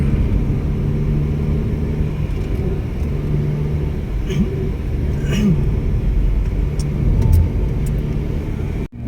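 A car drives along a zigzag road through a mountain national park, with a steady low engine and road rumble filling the cabin, loud and continuous, plus a few faint clicks and thumps.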